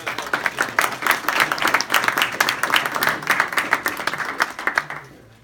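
An audience at a criminal justice reform roundtable applauds, a sustained crackle of many clapping hands that holds steady for several seconds before tapering off.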